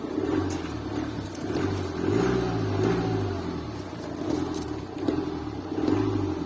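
A Mini Cooper engine revs up and down several times in a steady rumbling rhythm, close by and moderately loud.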